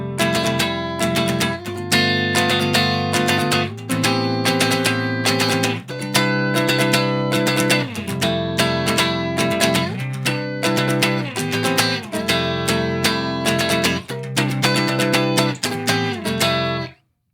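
Drop D guitar chords with an added sixth on the top string, strummed loud and close in a steady rhythm of repeated chord changes with bright ringing harmonics, no voices.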